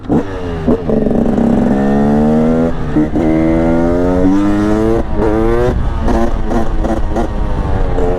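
Loud, close engine of a Husqvarna 300 TE supermoto built on an enduro bike, revving in repeated rising sweeps that climb and drop back over several seconds.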